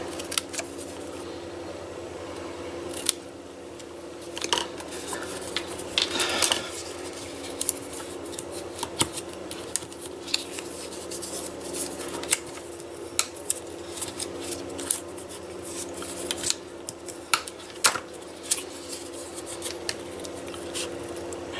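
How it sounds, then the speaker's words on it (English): Scissors snip repeatedly through scored paper, trimming small corners from a box blank in a series of short, close, crisp cuts with quiet handling in between. "Then cut out the little corner, just like that."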